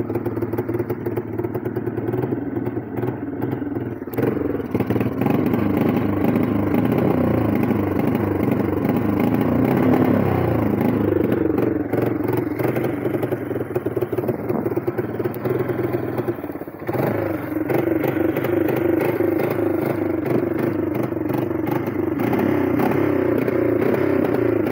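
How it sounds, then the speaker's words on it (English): A four-wheeler ATV engine runs steadily close by, a continuous rough motor drone with slight surges and clattering texture throughout, with no talking over it. "And that is the running sound"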